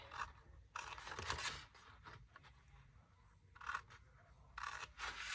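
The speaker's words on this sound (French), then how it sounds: "sur chaque trait, eh bien, on vient découper jusqu'à la ligne" Scissors cutting paper along marked lines for a scrapbooking Easter box: several short bursts of close, faint snipping and crisp paper scraping, separated by brief quiet pauses, with no voices.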